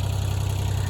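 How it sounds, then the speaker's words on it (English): A tractor engine runs beside a Woodland Mills HM130MAX sawmill, a loud, steady, throbbing idle with a strong low pulse and no break. "the tractor's probably still kind of loud"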